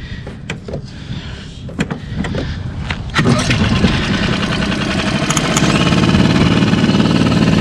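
A sailboat's small inboard engine with a fuel-starvation fault cranks after some clunks and knocks, catches and runs steadily louder, close by with no talk.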